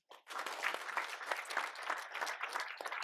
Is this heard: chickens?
no